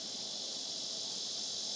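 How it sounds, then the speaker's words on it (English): Insects outdoors, near a shop, buzz and chirp in a loud, unbroken, high-pitched drone that fills the air with no voices. "Them bugs sure make a noise"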